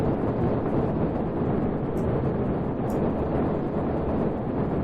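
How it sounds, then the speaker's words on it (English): Rocket engines roar in the Kerbal Space Program (RP-1) game as a craft climbs to cruising altitude, a dense continuous broadband rumble with a slight uneven sputter, loud and steady with no talk. "There, listen to the engines."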